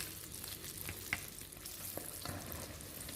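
Canned fish meat fries in garlic oil until crisp, giving a continuous close sizzle with occasional stirring scrapes and pops and no voices.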